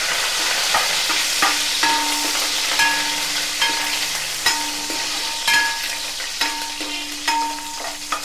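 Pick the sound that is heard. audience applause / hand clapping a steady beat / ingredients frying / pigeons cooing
ingredients frying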